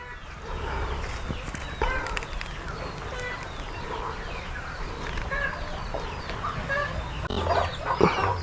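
Country chickens on a small farm cluck and chatter continuously at moderate distance, with scattered overlapping calls and some background noise.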